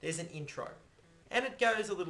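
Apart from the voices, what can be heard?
No everyday noises stand out.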